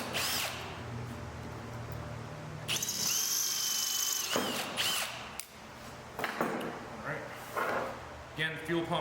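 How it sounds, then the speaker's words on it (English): A power drill bores holes for fuel pump mounting bolts on a Mercedes-Benz 380SL, whirring in short bursts at close range, mixed with tool handling and someone talking. "So we're gonna drill out both the holes here."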